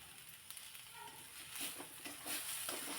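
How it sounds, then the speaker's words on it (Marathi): Steady sizzling of a ground spice paste frying in hot oil for soybean curry, with a few louder stirring scrapes and crackles near the end. "अगदी थोडंसं मिनिटभर हे परतून घ्यायचं आहे"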